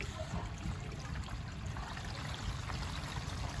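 Water draining from an opened tank valve on an Entegra 25R RV, a steady broadband rush and trickle that stays even throughout with no talk.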